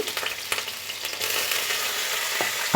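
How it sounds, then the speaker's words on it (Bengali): Big quartered potato pieces fry in hot oil with salt and turmeric, making a loud, continuous close sizzle broken by a few soft clinks and stirring scrapes, with no one talking. "আর একটু হলদি পাউডার দিয়ে এগুলোকে ভালোভাবে ভেজে নেব"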